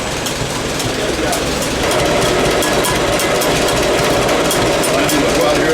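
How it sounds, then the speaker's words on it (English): An old Farmall tractor engine idles steadily and close by, a continuous low rumble with a fast mechanical patter running through the whole stretch, growing slightly louder after the first two seconds. "this thing idles down nice"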